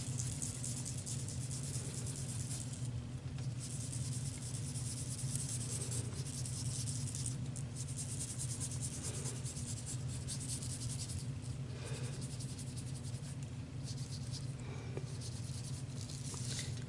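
Ink marker coloring on a paper towel for a scrapbooking layout, a soft continuous rubbing and scratching of the tip across the absorbent paper that runs steadily for the whole stretch, close up, over a low constant background hum, with no talking.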